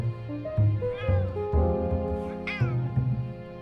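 A cat meows repeatedly, a series of close, clear, wavering calls with short pauses between them.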